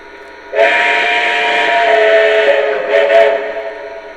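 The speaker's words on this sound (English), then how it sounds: "Here are the 5 whistles." A Lionel Legacy Union Pacific 4-12-2 #9000 model steam locomotive's whistle blows one long, loud blast, wavering slightly in pitch before cutting off, with quiet surroundings before it.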